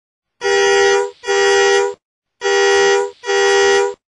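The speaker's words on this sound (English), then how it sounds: "School bus." A loud school bus horn honks four times in two pairs of long, blaring blasts with short gaps between them.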